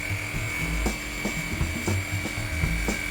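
An EQUALIZER Express windscreen removal tool makes a plunge cut through the urethane at the top of a windscreen A-pillar, giving a steady close mechanical whine with a high constant tone and repeated low knocks and rasps.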